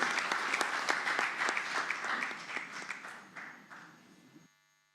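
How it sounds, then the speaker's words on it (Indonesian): An audience at an Indonesian political speech by Ganjar Pranowo claps loudly and steadily, the applause gradually thinning and fading out to near silence. "Kita berikan tepuk tangan yang meriah,"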